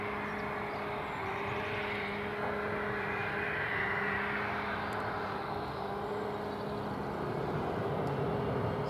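An Embraer Phenom 300 business jet, registration CS-PHB, rolls along the runway at Cambridge, UK after landing, its engines giving a steady, moderately distant whine and rumble.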